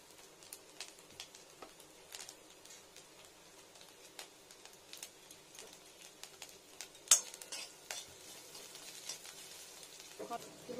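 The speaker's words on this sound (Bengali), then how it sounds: "একটু ফ্রাই ভালো করে ফ্রাই হয়ে যাও" Food fries in a pan with a faint, steady sizzle, broken by scattered clicks and scrapes of stirring and a louder clatter partway through.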